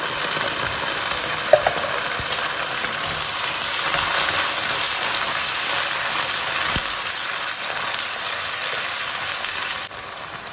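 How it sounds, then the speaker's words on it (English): Chopped tomatoes from a tin cook in a pan, giving a steady, fairly loud hiss and sizzle that runs without a break, with an occasional soft knock of utensil and no voices. "And then I'm going to throw in a tin of chopped tomatoes"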